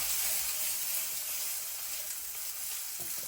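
Oil sizzling in a pan on a stove while cooking shik kabab, a steady bright hiss and crackle that holds evenly throughout, close and loud, with no talking.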